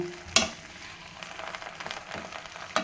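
Pennywort greens sautéing in a pan for a Tamil-style thokku, giving a soft, steady sizzle with a couple of sharp stirring clanks near the start and end, and no voices.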